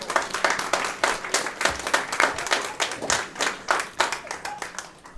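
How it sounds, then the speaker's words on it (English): Audience at a school district board meeting clapping in sparse, distinct rhythmic bursts, individual hand claps clearly separated and fairly close, fading slightly toward the end. "Another round of applause for Jaden Jimenez"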